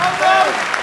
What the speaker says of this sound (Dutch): wederom een applaus